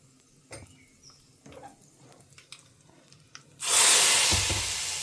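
Asafoetida and curry leaves, along with mustard seeds and cumin, are tempered in a pan for rasam: a few soft clinks and stirring sounds, then a sudden loud, steady sizzle as they hit the hot oil.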